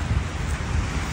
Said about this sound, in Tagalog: Magdahan-dahan kasi umuulan.